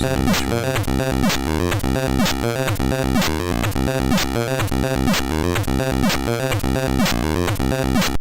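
Chiptune music from a new Atari YM2149F sound-chip tracker, a dense, loud and continuous loop of buzzy square-wave tones over a steady pulsing beat, with no voices.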